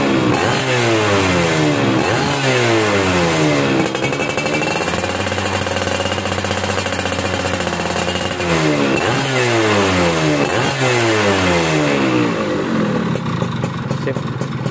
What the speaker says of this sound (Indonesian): Ini motor kondisi dingin ya, beberapa hari nggak dinyalain, tapi sekali kita sela langsung cekreng ya.